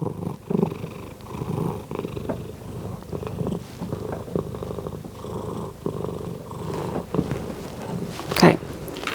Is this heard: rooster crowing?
no